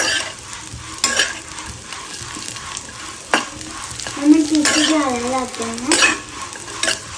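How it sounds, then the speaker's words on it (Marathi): Food fries in oil until crisp, giving a low background sizzle under louder intermittent spoon scrapes and clinks against the pan, with a few sharp clatters spread through the stretch. "मस्त कडक होईपर्यंत फ्राय करायचं."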